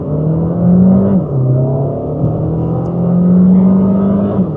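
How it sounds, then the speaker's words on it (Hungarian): A Cupra Formentor 1.4 PHEV plug-in hybrid pulls away hard from a standstill, its engine note climbing through several rising gear pulls in a steady, loud, continuous drone heard close from inside the car, with no talking. "Akkor nézzünk egy epic gyorsulást, és akkor nézzük meg, mit tud nulláról"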